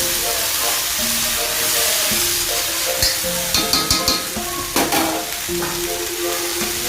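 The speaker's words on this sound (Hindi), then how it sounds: "इसको थोड़ी देर भुनने देते हैं और फिर इसे ढक करके रख देंगे।" Vegetable sabzi sizzles and fries steadily in a pan as it roasts, with a few sharp metallic clinks and scrapes partway through and faint background voices in the room.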